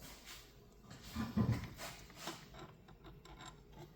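A file is drawn across a chainsaw chain tooth in light, fine finishing strokes, producing a few soft rasping rubs that are quiet and close, without any voice.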